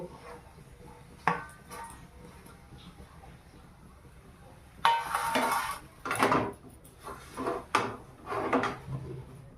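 Castor fruit and potatoes stirred in a cooking pot, with a few sharp metallic scrapes and knocks of a spoon against the pot after a quiet start, clustered near the end of the clip.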